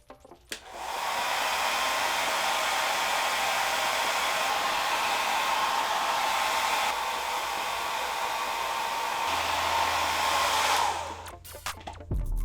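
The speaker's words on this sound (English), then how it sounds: "If you have a blow dryer," A handheld hair dryer blows steadily on a factory vinyl toy, a loud, close, continuous whoosh that switches on, runs about ten seconds and cuts off with a click.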